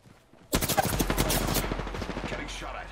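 Rapid automatic gunfire in the Apex Legends video game, a loud sustained burst of close shots starting abruptly and rattling on for a couple of seconds before tapering slightly.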